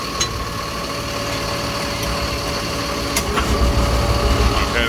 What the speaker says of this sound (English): Okay, there's the pumps.